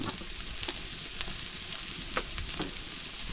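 Tomato and pepper fry in a hot pan with a steady, faint sizzle and crackle, punctuated by a few light stirring scrapes, with no voices.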